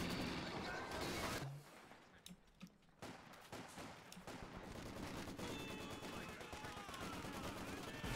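Maxim and Vickers machine guns trade sustained rapid fire in a video game battle between British and Soviet forces. Dense, continuous clattering bursts mix with other battlefield noise.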